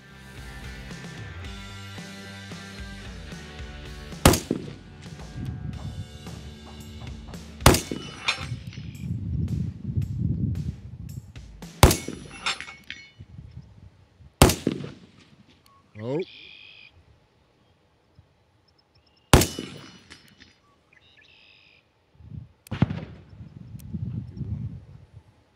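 Rifle shots with 55 grain rounds ringing off a steel head-plate target, several sharp cracks spaced several seconds apart, each followed by a metallic clang, with people talking quietly between shots.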